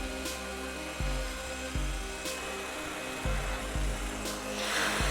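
A Wild Badger 40V cordless hedge trimmer cuts through bushes, its motor buzzing steadily with repeated short bursts and dips as the blades bite into branches, close and fairly loud.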